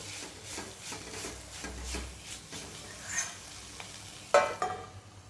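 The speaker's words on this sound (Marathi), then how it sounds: "आणि व्यवस्थित असं हे परतून घ्यायचं आहे" Bitter gourd bhaji with whole tamarind being stirred in a pan, a soft frying sizzle under repeated scraping strokes of a spatula, with a sharper clatter near the end.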